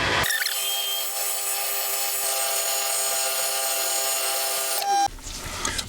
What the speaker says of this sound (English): The 6mm hole has now been drilled.